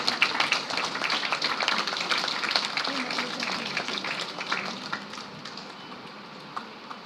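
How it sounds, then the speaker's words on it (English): An audience at an international conference on multidisciplinary research claps in a dense, steady round of applause. The applause starts fairly loud and thins and fades toward the end. "kindly extend a token of encouragement by the round of applause"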